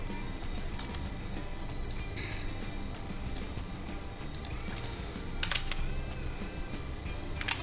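Keys clatter on a computer keyboard as an Excel formula is typed, giving a quiet, uneven run of close clicks over a faint steady background hum.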